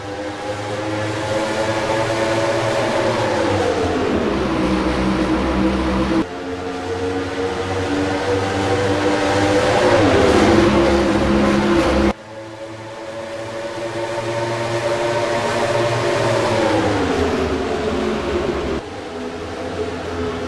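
NASCAR Cup Series stock cars roaring away at the start of a video-game championship race at Homestead, a dense, continuous engine drone with rising and falling pitch sweeps as the pack accelerates, loud and steady throughout.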